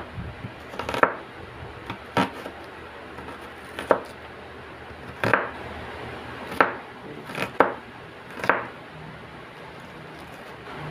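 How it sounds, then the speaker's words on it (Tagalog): A knife chopping an onion on a cutting board for a cucumber dipping sauce, sharp separate knocks at an uneven, unhurried pace, close and clear over quiet background. "Tapos maghihiwa ko guys ng sibuyas."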